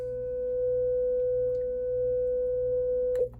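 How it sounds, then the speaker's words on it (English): Test tones from a test disc play on a Sony CDP 2700 CD player: one steady, pure electronic tone holds unbroken at an even level, then cuts off with a brief click near the end. "Obviously, these are just test tones, so no violation."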